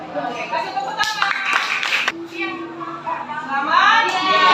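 Children in a classroom break into a short burst of clapping amid children's voices and chatter, close and lively.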